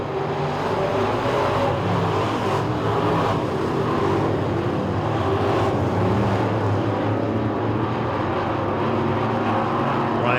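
Late model sportsman stock cars race a heat on the Talladega short track, a steady, loud engine roar with a continuous drone and no breaks.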